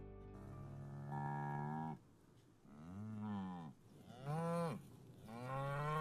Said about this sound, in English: That cow does not belong to me.